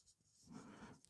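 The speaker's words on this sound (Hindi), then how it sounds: "पहला वाला क्वेश्चन यहाँ पे लिखेंगे" A pen writing a trigonometry problem on paper, a short soft scratching stroke, faint and close.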